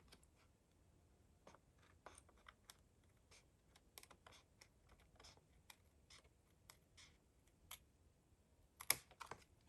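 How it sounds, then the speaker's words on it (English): Scissors trim cardstock close to the stitching on a handmade card, making quiet, close, irregular snips and clicks spread across a hushed room. No one speaks. "I'm just going to use my scissors"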